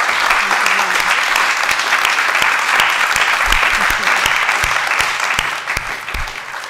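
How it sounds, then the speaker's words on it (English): Warm audience applause for an honored guest at a debate event, a dense, steady wash of many hands clapping close and loud throughout, thinning slightly near the end. "I would like to ask you for a very warm applause for our honorable guest, Zeynep El-Soueij."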